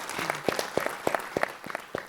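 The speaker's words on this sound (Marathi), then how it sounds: "तर एकदा जोरदार टाळ्या वाजवूयात आपण." An audience at a friendship festival gathering claps, a short burst of scattered, fairly close hand claps in loose rhythm, moderately loud, with no speech over it.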